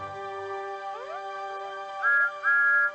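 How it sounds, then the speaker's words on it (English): Steam engine whistle in a children's railway story setting, a multi-tone chord that slides in pitch then gives two louder short blasts near the end, with nobody speaking. ""Hooray!" whistled Thomas."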